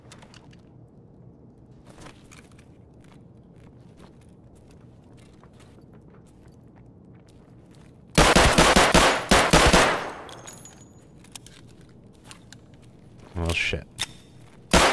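Gunfire in Escape from Tarkov: a rapid burst of loud, close automatic shots for about two seconds, then quieter movement, another short cluster of shots and a final crack, with a player exclaiming.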